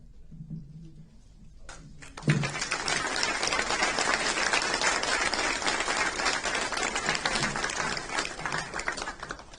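Applause at a memorial service swells suddenly after a brief pause and holds as a dense, sustained clapping from a crowd for several seconds.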